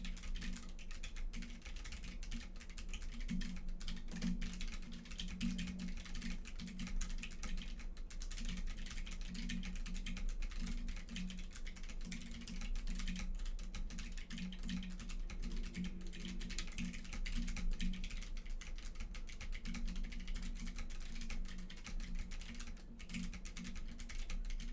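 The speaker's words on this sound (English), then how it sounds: "Let's see how fast I type." Fast continuous typing on a computer keyboard, a dense steady patter of key clicks running the whole time, close and alone with no talk.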